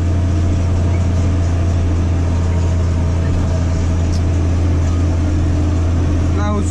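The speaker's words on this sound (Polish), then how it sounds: "brona talerzowa Euromasha 3-metrowa" A Massey Ferguson 8210 tractor pulls a Euro-Masz 3-metre disc harrow through a field, its steady engine drone loud and close throughout with a strong low hum and no break.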